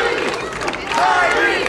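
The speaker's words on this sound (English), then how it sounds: "As the crowd here in Montclair, New Jersey, in the Soccer Dome, begin to rally." A pro wrestling crowd in the Soccer Dome in Montclair, New Jersey, rallies with a steady wash of cheering and chatter that swells slightly partway through and stays loud throughout.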